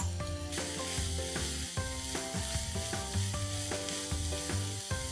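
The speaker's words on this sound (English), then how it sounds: "Let's add the onions and saute it pink and soft." Onions sauté in hot ghee and oil in a kadai with a bright, steady sizzle that runs the whole time, while music plays loudly over it.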